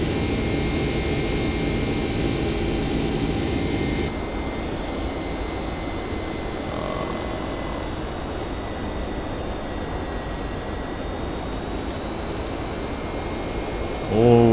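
Boeing 767 jet engines in a flight simulator on a YPAD to YBBN flight: a steady, continuous engine drone at cruise that dips slightly partway through, with faint clicks and a brief louder rise at the end.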